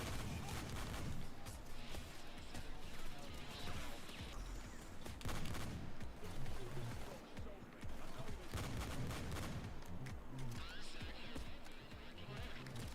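Sniper gunfire cracks out during a video game raid, with sharp shots buried in a dense, loud wash of constant game sound effects and commotion.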